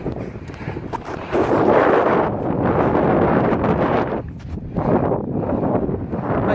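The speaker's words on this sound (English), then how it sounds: "I chose this direction knowing there'd be a headwind all the way back" Strong headwind buffeting the microphone during an outdoor ElliptiGO bike ride, a loud continuous rushing roar that swells and dips in gusts, with no talking.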